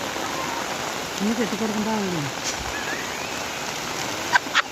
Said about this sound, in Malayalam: എന്താ മഴ നോക്ക്